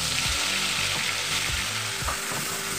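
Spice paste frying in hot oil for a fish dish makes a loud, close, steady crackling sizzle, with soft knocks of a stirring spoon underneath.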